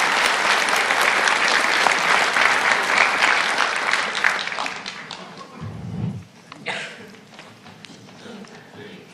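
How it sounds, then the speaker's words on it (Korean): Church congregation applauding warmly for several seconds, a broad dense wash of clapping that thins out toward the end, with a brief low thump near the close. "우리 세 분에게 뜨거운 박수로 한번 축복하겠습니다."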